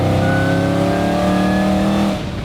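A loud, close 800-horsepower supercharged 2008 Shelby GT500 Super Snake engine roars and climbs in pitch as it accelerates hard onto a highway, holding strong for about two seconds before easing off.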